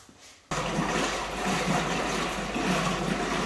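Water rushes steadily into the tub of a 1936 Maytag wringer washer, starting abruptly after a brief quiet moment and continuing as a loud, even, gushing flow with no talking.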